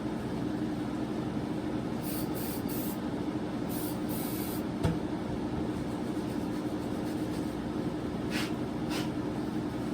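Aerosol spray hisses steadily over a cleaned engine part from a Duratrax Evader ST RC car, a continuous close hiss lasting several seconds with a few brighter surges and no talking.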